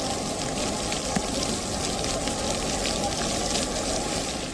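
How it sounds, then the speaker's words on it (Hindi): Heavy rain pours down in Chittoor, Andhra Pradesh, where floodwater has reached a temple complex. It makes a dense, steady wash of hissing noise with no break. "बारिश इतनी तेज है कि सब कुछ सफेद दिखाई दे रहा है।"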